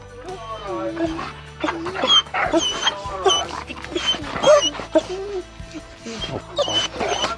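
A puppy whimpers and whines in high, wavering cries, close by, with people talking over it.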